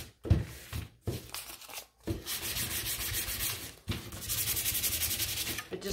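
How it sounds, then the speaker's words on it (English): Hand sanding of small painted wooden broom pieces: gentle scratchy rubbing strokes in bursts, some short and some sustained, separated by brief pauses, close and fairly quiet with no talking. "So just gently do a sand on them."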